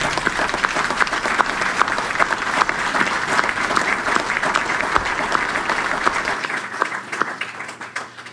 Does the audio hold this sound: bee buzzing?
no